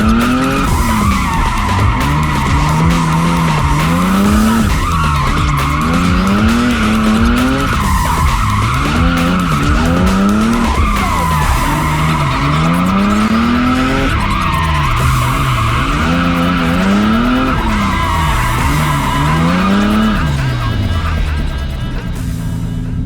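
Car drifting on a track in a drift contest, tyres skidding and squealing in long repeated wavering screeches over a loud revving engine, close and continuous.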